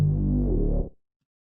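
Liquid drum and bass synth bass patch made in Serum, a deep sustained note that holds for under a second and then cuts off cleanly into silence.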